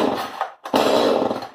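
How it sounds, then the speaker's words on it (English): A chainsaw engine cranks after its starter rope is pulled with the choke out: a close, loud rasp, a brief pause, then a longer sputtering burst that fades at the end. "So choke is out, turn on the chainsaw, and then"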